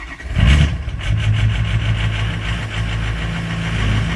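A Ford 6.0 Power Stroke diesel engine that needs injector work catches after cranking and settles into a loud, steady, rumbling idle close by. No one talks over it.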